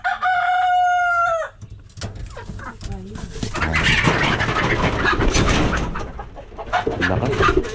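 A rooster crows loudly up close, then hens cluck and squawk busily around it, with a voice murmuring faintly in the background.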